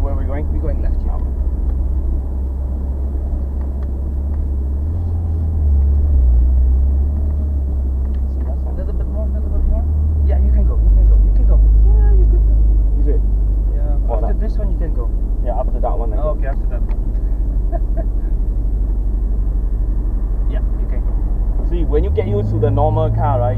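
A 2015 Ferrari California convertible driving around Maranello, Italy, its engine a steady low drone that swells and drops with the revs, heard from the cabin under ongoing conversation.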